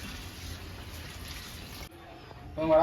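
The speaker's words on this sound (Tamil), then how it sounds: "இது கறி வேக வச்ச தண்ணி" Mutton cooking water poured into a pot for mutton dum biryani, a steady faint watery stream that stops briefly and then returns louder with splashing.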